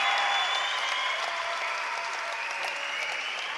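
Crowd at a Caged Steel championship steel cage boxing event applauding and cheering both fighters after three rounds, before the decision, a dense steady wash of clapping that fades slightly as it goes on.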